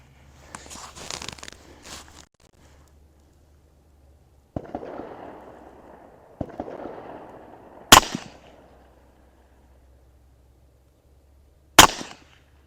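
Two sharp, loud gunshots from a 5.7x28 Ruger LC Charger pistol fired at an outdoor range, spaced several seconds apart and each standing alone after quieter handling and rustling noises.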